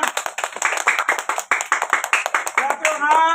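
Students in a classroom clap their hands at a teachers day event, a fast, ragged run of close claps that continues steadily while a voice speaks near the end.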